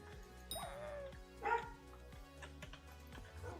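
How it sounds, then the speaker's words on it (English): A dog named Max barks outside a closed door, a few muffled yips and bow-wows heard at a distance behind a steady droning hum. "He's outside my door barking."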